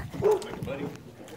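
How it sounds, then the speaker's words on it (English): A dog gives a few short barks and yips close by, heard under people talking outdoors. "Oh, there's a dog."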